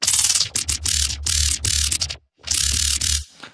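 Massive synth oscillator preset named cicada, a harsh buzzing phase-modulated tone in choppy bursts of varying length, loud and bright with a brief silent gap.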